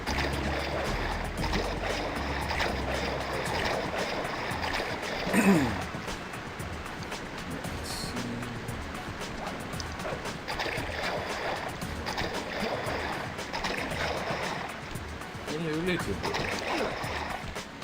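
A waterfall in a video game gives off steady, loud rushing water that lasts the whole time. A brief splash stands out partway through, and a voice is heard now and then over the water.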